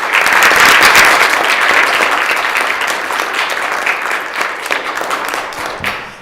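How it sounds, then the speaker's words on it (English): Sustained applause from a legislative assembly floor session honoring visiting students, loud and dense at first, then gradually thinning and fading over about six seconds. "if we could acknowledge them and give them a round of applause"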